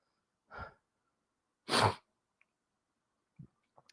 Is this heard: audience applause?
no